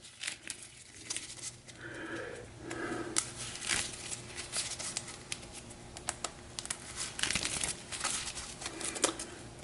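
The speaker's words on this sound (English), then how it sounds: "Give this a quick shuffle as well." A deck of game cards is shuffled, giving soft riffling patter and crisp flicking bursts in quick uneven runs, close and fairly quiet.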